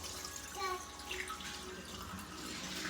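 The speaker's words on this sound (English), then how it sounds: "I'm just going to pour it from the bottle into here to finish that" Kefir water poured from a bottle into a pitcher, a steady splashing liquid stream running for about three seconds with faint trickling on top.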